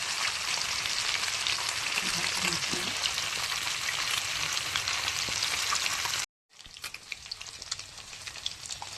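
Fish pieces frying in hot oil in a pan at home, a loud, steady crackling sizzle that runs on, cuts out briefly, then resumes with bright popping spatters.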